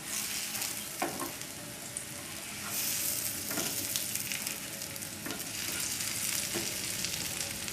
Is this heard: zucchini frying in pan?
yes